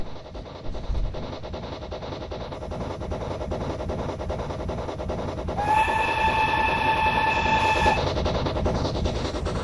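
A train runs through a small request-stop station, its steady rumble and rail clatter swelling close by as a whistle sounds for about two seconds partway through.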